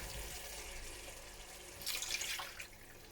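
Water is poured into a cooking masala for koftay, a steady trickling splash near at hand that swells briefly louder midway before settling back.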